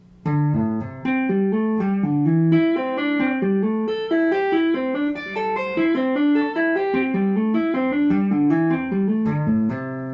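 Clean electric guitar plays a slow two-hand tapping pentatonic pattern, a flowing run of bright single notes with a steady rhythm, jumping between high and low pitches, with no talking.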